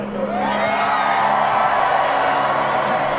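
Grandstand crowd at the Canadian Grand Prix qualifying cheering and whooping, a loud, dense wall of voices holding steady for a few seconds.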